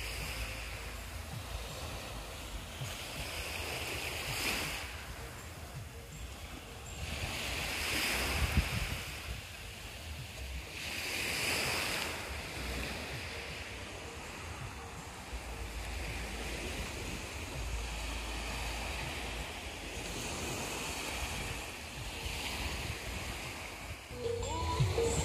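Ocean waves roll in on Tengket Beach at Sepulu, Bangkalan, on Madura island, surging in repeated swells several seconds apart, with steady wind buffeting the microphone throughout and no voices.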